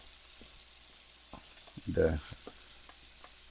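Meat sizzles briefly in a pan as it is stirred for a Balkan-style spicy chicken dish, a short burst of frying rising out of a quiet background and then fading.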